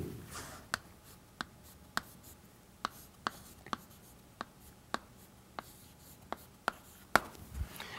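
Chalk or pen writes out a math proof in a quiet room, with a dozen sharp, evenly spaced taps and strokes as symbols go down one after another, and no talking.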